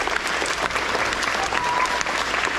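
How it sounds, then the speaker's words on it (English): Steady audience applause at an elementary school awards ceremony for grades 3–5, honoring the teachers: dense, continuous clapping from many hands, filling the room evenly without pause. "Let's give a round of applause for our teachers."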